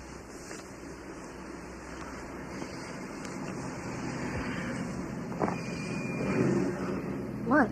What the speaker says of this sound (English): It's Jennifer's car.